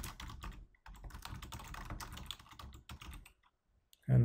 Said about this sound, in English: So for the fifth book, I'm going to type the author information